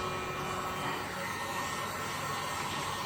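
A steady, whooshing blast of air from a small heat gun blows without pause close by.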